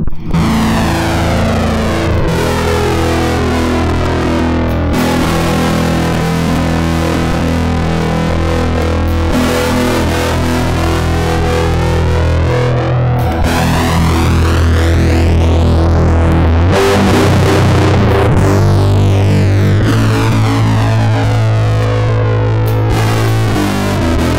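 A heavily distorted, modulated synth tone drones continuously, loud and gritty, with sweeping pitch shifts and thick harmonic buzz throughout, from a modular Max MSP effects processor routing a modulated signal into distortion.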